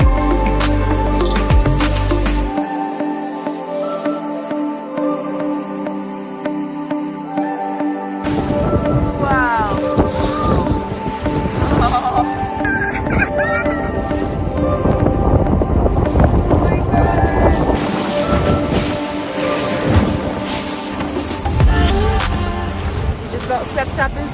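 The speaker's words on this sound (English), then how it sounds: "The sea is looking really quite rough for this tiny little boat. Just one engine." A tiny single-engine fishing boat motors across rough sea, its engine drone mixed with heavy wind buffeting and splashing water, loud and close throughout.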